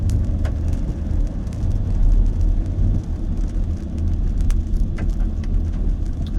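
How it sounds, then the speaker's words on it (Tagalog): Rain falling while a car drives on a road in traffic. A dense, steady patter and hiss sits over a low rumbling engine and road drone, with occasional sharper drops hitting the vehicle and no voices. "Ulan pa rin guys"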